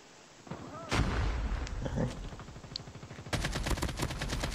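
Rapid gunfire from Call of Duty Mobile, an AK-47 in play: a burst of loud shots followed by a sustained fast automatic volley near the end, with no talk over it.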